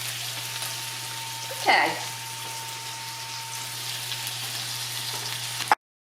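Cabbage fries over medium heat in bacon grease and butter, a steady soft sizzle with a low hum beneath, a brief stirring scrape partway through and a short spoken word near the end.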